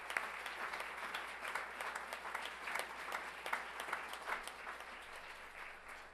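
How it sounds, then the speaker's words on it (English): Sustained applause from an audience at an evening school district governing board meeting, steady and fairly distant with dense overlapping claps throughout. "So one more round of applause for all three groups this evening."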